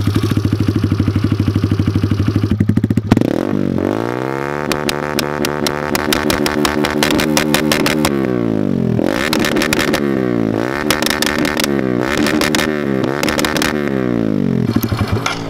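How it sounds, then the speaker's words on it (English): A fuel-injected Kawasaki KLX110 dirt bike fitted with a race head revs hard on A-Racer launch control, a loud, close engine holding a buzzing limiter with rapid crackling pops, dropping and climbing again several times, no voices. "I do want to show you guys the A-Racer flamethrower launch control"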